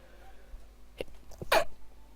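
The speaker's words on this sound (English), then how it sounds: "Sneeze incoming" A close sneeze, with a couple of short breathy catches leading into one sharp burst, in a quiet room.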